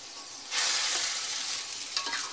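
Aci noodles being stirred and turned in a pot of boiling water: soft bubbling and sizzling with light stirring scrapes, moderately close and steady, without talk.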